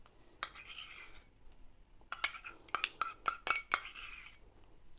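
Dukan-friendly mayonnaise is scooped from a container and spooned into a bowl, a run of sharp metal-on-ceramic clinks and scrapes, scattered at first then clustered in quick bursts, close and fairly quiet.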